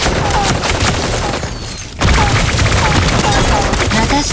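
Rapid bursts of gunfire crackle repeatedly over a busy, noisy background in Super Mecha Champions, with a brief lull midway before the shooting resumes loudly.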